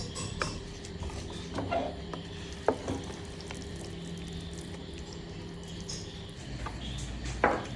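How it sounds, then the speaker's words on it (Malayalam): Erissery, a Kerala pumpkin curry, is stirred in a pot: a steady soft wet scraping and bubbling with a couple of sharper utensil knocks, close by and with no talking. "പിന്നെ നമുക്ക് ഇനി ഇത് ഇളക്കി മിക്സ് ആക്കാം."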